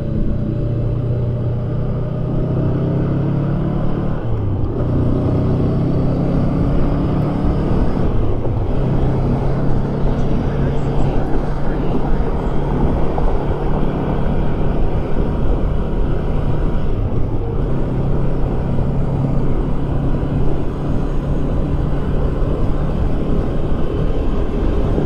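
A Honda Rebel 500 motorcycle cruises on the freeway, a loud continuous engine rumble blended with heavy wind roar, steady throughout with slight shifts in pitch.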